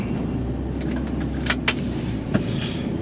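Car driving out of a hall, a steady low engine and road rumble throughout, with a few brief sharp clicks and rattles near the middle and end.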